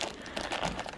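Thin plastic bag crinkling and rustling steadily while cosmetics go into a small Louis Vuitton Mini Pochette, a close, continuous papery crackle with no voices.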